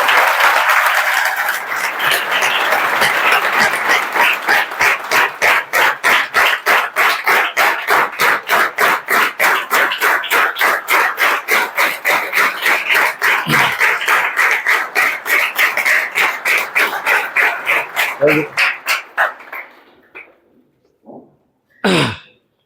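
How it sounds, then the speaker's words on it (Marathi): A large audience claps loudly for a newly appointed police recruit, dense rhythmic applause sustained for about nineteen seconds before tapering into a few scattered claps and faint sounds. "जोरदार टाळ्या वाजवा."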